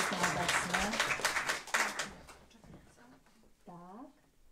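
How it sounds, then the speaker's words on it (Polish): An audience applauds at a literary competition awards ceremony, with a burst of clapping that fades after about two seconds, while a voice speaks over it and continues once the clapping dies away. "Wielkie brawa dla Piotra."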